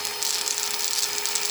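A cordless drill spins a homemade jig for cleaning silver rings, with a rag set underneath. It gives a steady, close, high-pitched whirring hum with a faint fluttering texture and no talk.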